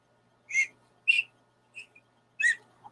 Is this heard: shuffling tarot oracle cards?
no